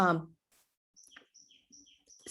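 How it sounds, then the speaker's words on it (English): Birds chirp outside a house in a few short, high tweets spread across a couple of seconds, heard after a brief human voice at the start. "The bird just start at my house just as I was start to teach."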